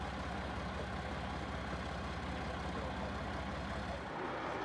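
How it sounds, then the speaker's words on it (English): A big dump truck delivering topsoil to a farmhouse site idles with a continuous, even low rumble, fairly faint and unchanging across the whole stretch, with no voices over it. "The big dump truck is here"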